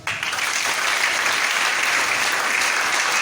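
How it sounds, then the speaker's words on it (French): A church congregation applauds, a dense and sustained burst of clapping that starts abruptly and stays loud and even throughout. "Je voudrais que ça s'acclame"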